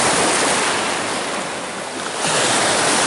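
Sea waves breaking on the Baltic coast in spring, a steady loud wash of surf with wind buffeting the microphone, easing briefly before swelling again, no voices.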